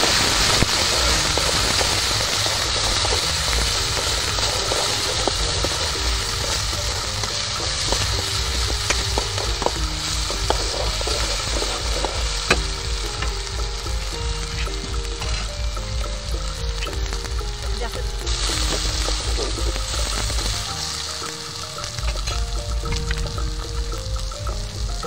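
Onion with cumin, ginger and garlic paste fries in a pan for a village-style chicken curry, a continuous close sizzle with occasional stirring clatter and scraping, no one talking.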